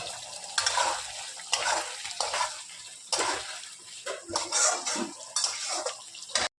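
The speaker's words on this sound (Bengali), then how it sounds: "ভালো মতো আলুটাকে কষিয়ে নেব মশলার সঙ্গে" Potatoes sautéing with spices and a little turmeric in a pan, bursts of stirring scrapes and sizzling at close range in an irregular rhythm, with no voices.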